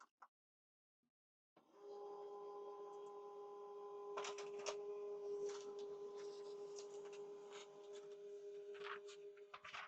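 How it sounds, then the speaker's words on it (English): Office printer running a double-sided print of a letter: a steady mechanical hum with tonal whine that starts after a brief silence, overlaid by irregular clicks and paper-feed rattles, close and alone. "So we printed it out double-sided."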